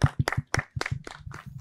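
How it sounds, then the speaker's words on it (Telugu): A small studio audience on a Telugu quiz show claps in sharp, distinct beats, roughly a dozen close, punchy claps in an uneven rhythm with brief gaps between them. "క్లాప్స్."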